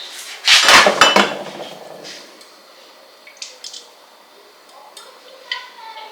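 Chopped onions and carrots tipped into a frying pan with a loud clattering burst, then a sizzle fading over the next seconds, with a few faint clinks of utensils afterward.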